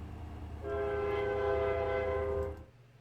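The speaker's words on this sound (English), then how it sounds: "There's a train." A train horn sounds a sustained, harmonically rich blast lasting about two seconds over a low rumble of rail traffic, then cuts off, leaving quieter rumble.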